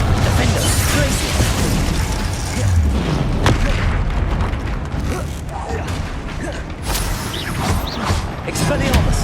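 Spell blasts and explosive booms from Hogwarts Legacy combat against a troll, a dense run of loud crashes, pops and impacts layered over a busy game mix with several sharp hits throughout.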